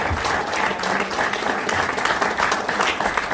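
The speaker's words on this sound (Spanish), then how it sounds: "Denle un aplauso fuerte al Señor." A church congregation applauds steadily, a dense wash of many hands clapping at once that holds for several seconds.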